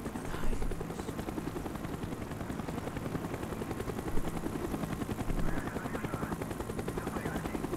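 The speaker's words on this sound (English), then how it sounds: "The chopper is coming around again." Helicopter circling overhead in the Call of Duty Black Ops video game, a steady low chopping rotor drone that fills the whole stretch, with faint bursts of gunfire mixed in.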